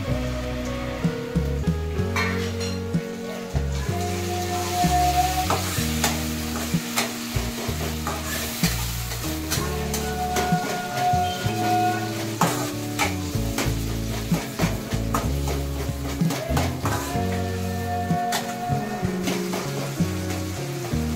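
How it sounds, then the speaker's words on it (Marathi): Chopped tomatoes sizzle in a hot pan as poha is prepared, a steady crackling fry broken by repeated scraping stirs of a spoon, close and with no talking. "टमाटर टाकायला लागली मी आता याच्यात."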